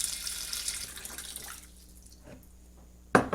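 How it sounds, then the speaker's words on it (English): Filtered water runs from a tap or dispenser into a pot of dry beans, a steady broadband pour for about a second and a half that fades to a quiet trickle, then ends with a sharp clank near the end. "Fill this up with Berkey water, filtered water."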